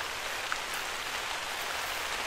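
Rain falling in the hunting video game theHunter: Call of the Wild, a dense, even hiss of steady rainfall with no voices over it.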